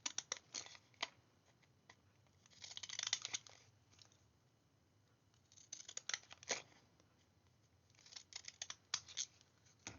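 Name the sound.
scissors cutting card for place cards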